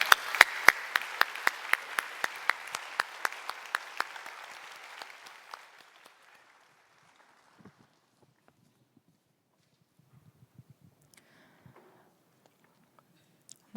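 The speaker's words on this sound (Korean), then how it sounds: "우리 나오실 때에 박수로 맞이해 주시길 바랍니다" A church congregation claps to welcome a speaker forward during a Sunday service. Crisp, rhythmic, close clapping with an even beat fades out after about six seconds into near silence, broken only by scattered faint rustles and knocks.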